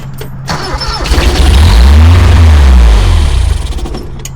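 A Toyota engine running rough as if down a cylinder, loud and close, with a low uneven throbbing that swells and sags over a few seconds.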